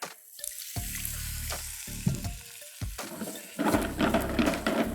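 Water pours into frying masala in a hot pan, setting off bursts of hissing and bubbling sizzle that grow louder toward the end, close up with no voices.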